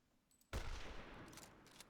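A single loud gun blast in the Sniper Ghost Warrior 2 multiplayer shooter game, a sudden sharp report after near silence that rolls off in a fading echo.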